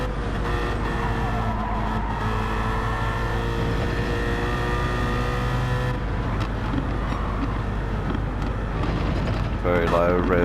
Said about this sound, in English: Very low rev downshift.